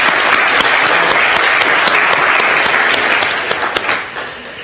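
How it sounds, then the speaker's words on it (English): A university chapel congregation gives the praise and worship team a round of loud, dense, sustained applause that thins out toward the end. "I think we owe this praise and worship team a round of applause,"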